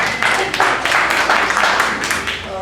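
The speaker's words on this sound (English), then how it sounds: "thank you for that applause" Audience applause at a live on-stage event, a steady wash of many hands clapping at moderate loudness that holds for a few seconds before easing slightly.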